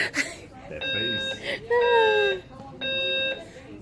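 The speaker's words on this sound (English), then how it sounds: "I've never had a fire alarm at a movie theater." A fire alarm in a movie theater sounds in loud repeated electronic tonal bursts, each lasting about half a second, with a voice briefly heard between them.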